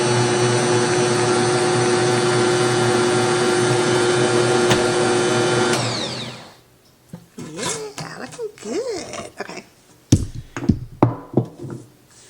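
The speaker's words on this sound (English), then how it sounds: "I'm going to give that a blenderoo." A blender whirs loudly and steadily for about six seconds while mixing pumpkin chocolate chip bread batter, then stops, followed by kitchen clatter and someone talking.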